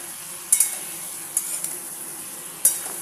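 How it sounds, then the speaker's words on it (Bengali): Potol, potato, brinjal and drumstick vegetables sautéing for a Bengali fish jhol, a quiet background sizzle punctuated by three sharp metallic clinks of a spoon against the pan. "সবজিগুলো দিয়ে একটু কষিয়ে নিই"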